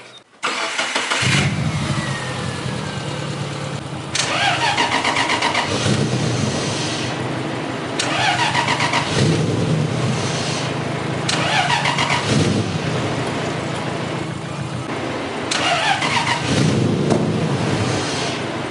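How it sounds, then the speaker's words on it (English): A Lexus engine cranks repeatedly, catching and running briefly before dying, in several loud close bursts of starter whir and rough revving with no speech. "Here I was cranking on it, trying to get it to start. It would run a little bit and then die."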